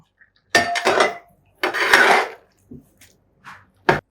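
Vegetables with turmeric are stirred in a pot for an Onam avial, heard as several separate bursts of a utensil scraping and clinking against the pot with quiet gaps between them.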